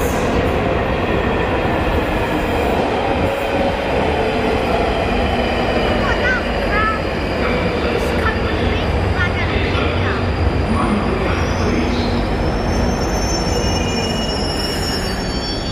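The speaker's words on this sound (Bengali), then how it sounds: "There is the train" A London Underground train arrives at Tooting Broadway with loud, continuous rumbling and high-pitched wheel squeal, steady and close for the whole stretch.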